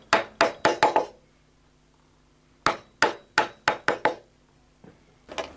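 Wood is cut by hand with sharp, close chopping blows, a quick burst of five strikes, a pause, then another run of about six evenly spaced hits and a couple of softer knocks.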